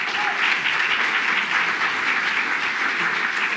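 A lecture audience applauds the speaker with steady, full clapping that fills the whole stretch evenly without breaks.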